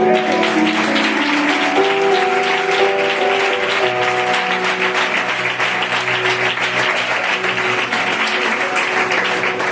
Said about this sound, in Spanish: ¿Cuántos le dan un aplauso al Señor?